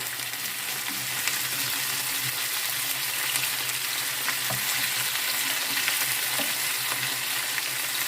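Vegetable stew without meat sizzles steadily in a frying pan while being stirred, a soft, even frying hiss with light scraping accents, no voices.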